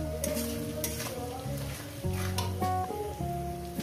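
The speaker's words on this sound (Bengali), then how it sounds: "আর এই টমেটোটাকে দিয়ে দিলাম, আরও 2 মিনিট আমি ভেজে নেব।" Onion and tomato frying in a pan for a Bengali katla fish curry, stirred with a utensil: a steady close sizzle with scraping strokes and faint clinks of metal, with no voices.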